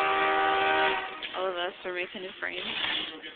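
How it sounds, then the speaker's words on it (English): A train horn sounds in a steady, sustained blast for about a second, then people start talking over the fading rail noise. "That's the train sound."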